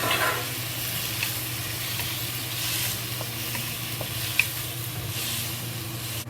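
Ginger and leek sizzle in a hot pan as tomato is stirred in, a close, even frying hiss broken by a few soft scraping and clinking stirs, with no talking.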